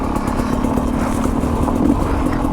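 A Sherco 250 SE two-stroke motorcycle engine runs steadily in third gear, giving a loud, even drone with a low buzzing hum and faint mechanical clatter, close by and without talk.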